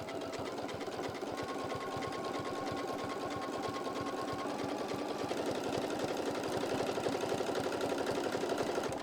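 A sewing machine stitches fabric in a steady, fast mechanical whir with an even pulsing rhythm. It runs close and continuous throughout, with no talking.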